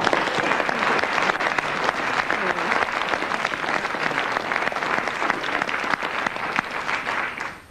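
A game show studio audience applauds to welcome a guest, a dense, steady wash of clapping from many hands that holds for several seconds before tailing off at the end, with faint voices mixed in.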